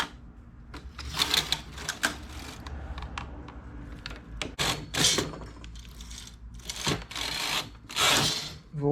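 Knitting machine carriage sliding across a row of needles, a run of sharp mechanical clacks and ratcheting rattles in quick bursts, close and fairly loud with no voices.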